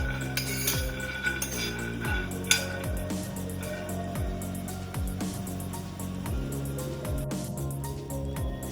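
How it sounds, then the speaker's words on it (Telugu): One cup of peanuts roasting in a pan over a low flame, rattling and clinking against the metal in repeated sliding sweeps as they are stirred, with light scraping and occasional louder knocks. "1 కప్పు పల్లీలు వేయించుకుందాము లో ఫ్లేమ్లో"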